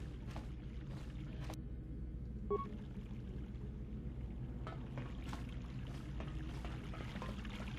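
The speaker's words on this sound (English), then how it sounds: "Running water." Running water in the slave quarters of Davik's Estate in the video game Knights of the Old Republic, a steady low wash of pouring water that continues without a break, with a few faint clicks above it.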